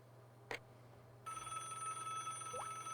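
A telephone rings in the Broken Sword adventure game, a faint, steady electronic tone with a sharp onset and a few brief blips over quiet background hum.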